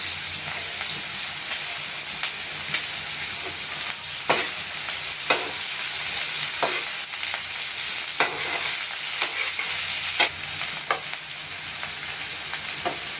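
Finely chopped onions sauté in a pan for pav bhaji, a continuous loud sizzle broken by regular scraping stirs of a spatula, heard up close without talking.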